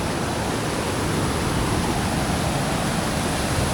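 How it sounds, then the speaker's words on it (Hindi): Sikidiri waterfall in a valley, a dense, constant roar of falling water filling the whole clip at close range, steady and loud with no talking. "और ये पानी गिरने से चेक करो"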